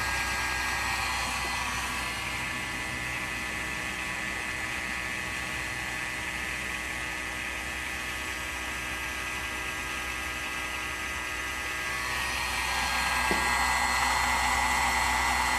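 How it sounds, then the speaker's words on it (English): A small electric motor running on pulses timed by a magnetic reed switch and transistor gives a steady, even whir with a faint hum, constant throughout with no voices. "this thing is running on pulses controlled by the magnetic reed and the transistor"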